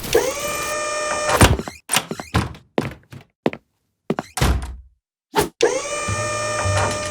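Magical door-opening effect from a French animated children's series: a shimmering sustained tone gives way to a run of close, solid thunks and knocks, then the bright shimmering tone returns as the door opens.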